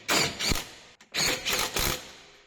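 Tightening a coilover bolt on a BMW E46 with a Rocket Bunny kit and Maxpeedingrods threaded coilovers: two close, loud bursts of mechanical whirring and ratcheting separated by a brief pause, with no talk.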